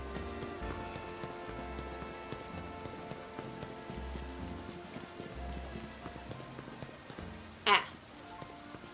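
Rain in the video game Pokémon Legends: Z-A falls as a soft, continuous patter under a hum of game music and ambience, with a brief louder burst near the end.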